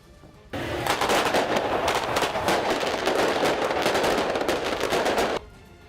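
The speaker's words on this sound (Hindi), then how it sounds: "उन्होंने सर्गेई के जन्मदिन की खुशी में जमकर पटाखे फोड़े।" A dense, continuous barrage of firecrackers bursting outside a president's office during a crowded birthday celebration, loud rapid crackling that starts abruptly and runs for about five seconds before cutting off.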